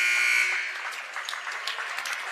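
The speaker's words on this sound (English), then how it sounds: "buzzer." A loud electronic buzzer sounds at the end of a period in a girls' high school basketball game in a gym. A bright, sustained tone for about half a second fades into crowd noise and scattered shouts.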